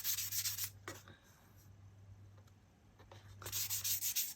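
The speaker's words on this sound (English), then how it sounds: "it's not doing a whole lot when I sand, just a very little bit" Light sanding over the sealed top coat of a stamped decoupage project, soft rubbing strokes in bursts at the start and end with a quiet pause between and a low hum underneath.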